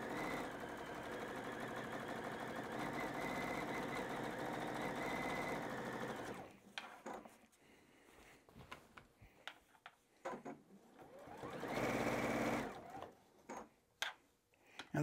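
A sewing machine stitching binding onto a quilt, a fast steady mechanical whir for about six seconds, then quiet with scattered clicks and handling noises and another short run of stitching near the end.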